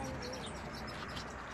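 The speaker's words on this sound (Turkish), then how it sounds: "Sapsarı kuşlar çok tatlılar." Small yellow birds chirp outdoors along an evening walking trail in Yaoundé, Cameroon, a faint steady twittering of high calls over continuous outdoor background noise.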